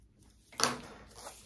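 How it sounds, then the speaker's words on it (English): Scissors give a single quick snip while trimming a zipper for a handbag. The crisp cut stands alone and fairly faint, with no talking. "I'm going to trim that zipper even"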